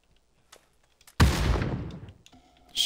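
A grenade thrown in a first-person shooter video game goes off in one sudden, loud blast that rolls away over about a second, with faint game noises before it and another burst starting at the very end.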